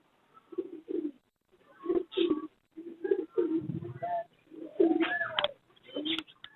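Fancy pigeons at a bird market, including a clean American breeder pair, coo in close, repeated bursts with soft rolling throaty calls and brief pauses between phrases.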